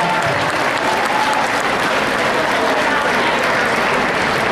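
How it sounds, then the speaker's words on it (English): A convention crowd at a political party event breaks into loud, sustained applause, dense clapping from many hands filling the hall without a break. "Let's give him a big round of applause."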